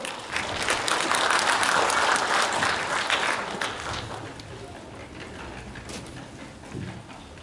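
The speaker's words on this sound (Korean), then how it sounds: "큰 환영의 박수로 맞아주십시오." Warm applause from a training-session audience welcoming a lecturer on private academy personal data protection, loud at first then tapering into scattered claps and faint room noise.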